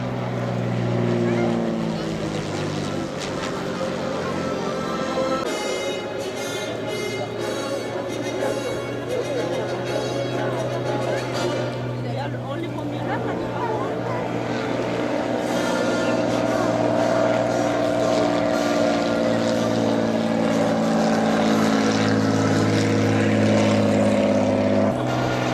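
Vintage propeller aircraft that first flew in August 1949, its engine droning loudly and steadily up close for the whole stretch, with the pitch and intensity swelling toward the end; people are speaking over it.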